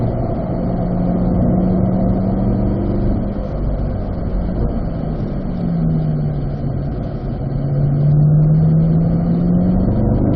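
A Corvette engine drones loudly on a race track, its pitch sliding down and then rising again as it accelerates out of a turn, a steady close cabin roar.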